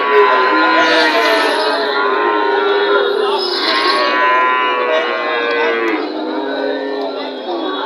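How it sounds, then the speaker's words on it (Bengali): Crossbred calves mooing at a rural cattle market, several loud calls close by over a steady murmur of crowd noise and people talking throughout. "এগুলো বাছুর গরু, খুব সুন্দর সুন্দর কালারফুল গরু"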